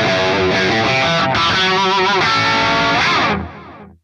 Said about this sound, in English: Let's add a little more distortion to it.